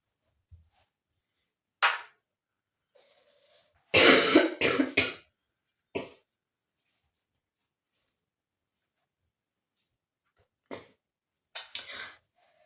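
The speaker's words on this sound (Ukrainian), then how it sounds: "Господи, я кашляю, не можу" Several separate coughs, some single and some in a quick harsh burst, with long silences between them; no talking.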